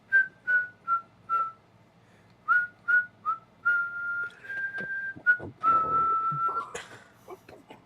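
A person whistles a melodic tune from the film Excalibur, a series of clear sustained notes and short phrases that grow longer and louder toward the end, with no talking over them.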